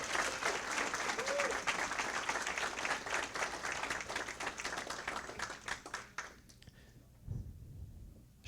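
Sustained applause from an audience at an awards ceremony, a dense rattle of many hands clapping that carries on steadily, then cuts off abruptly near the end.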